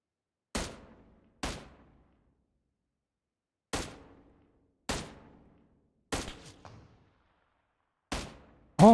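Seven sharp, isolated gunshots from enemies in PUBG Mobile, spaced irregularly with short reverberant tails, the last one loud and clipped at the end, with no talk over them.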